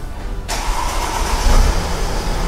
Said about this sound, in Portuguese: vamos dar a partida no carro